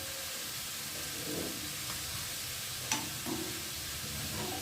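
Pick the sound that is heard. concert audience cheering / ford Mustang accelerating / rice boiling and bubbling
rice boiling and bubbling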